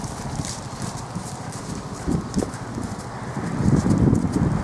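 A young blue roan overo horse walks forward with steady, fairly close hoof clip-clops that grow louder near the end, over a low outdoor rumble.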